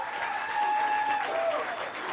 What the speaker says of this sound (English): let's give a big round of applause for both of them